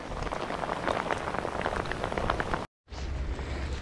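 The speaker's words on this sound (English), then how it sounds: "We're thinking, hoping it'll stop raining soon." Steady rain pattering on surfaces at a camp beside a disused canal during a thunderstorm, a dense close hiss of drops, briefly cut to silence before the downpour resumes.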